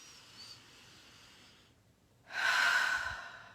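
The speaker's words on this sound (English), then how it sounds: "Take a breath." A person draws a deep breath, heard as a soft, faint airy rush, then a louder, close breathy exhale that lasts about a second near the end.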